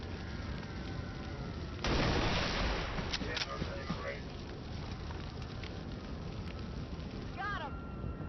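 A sniper rifle shot in XCOM 2 cracks out as one loud, sharp burst with a rumbling tail, standing out above steady game ambience with a few small clicks after it.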